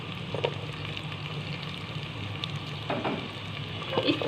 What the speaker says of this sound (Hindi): इसको हम फ्राई कर लेंगे 5 मिनट के लिए।